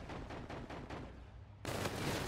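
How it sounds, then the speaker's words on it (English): Ballista sniper rifle gunfire in a video game: a loud, sharp burst of shot noise near the end of the clip, following a run of rapid, rhythmic game gunfire. "And then we get sniped by a ballista."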